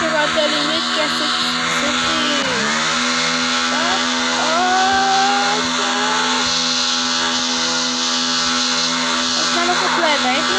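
A video game motorcycle engine revs with a buzzy, whining drone that dips and climbs in pitch, loud and continuous under someone talking.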